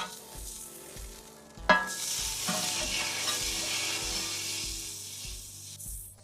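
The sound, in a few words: hamburger patty frying after being flipped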